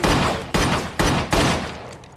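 Four sharp pistol gunshots in quick succession, each loud bang trailing off in a short echoing decay.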